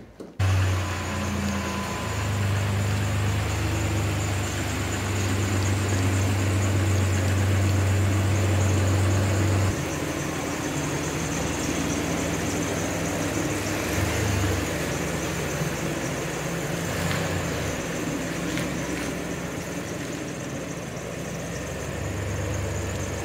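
Jeep Liberty engine with an OME 3 inch lift running at a steady low idle after starting up, a continuous near rumble that lasts throughout with no talking.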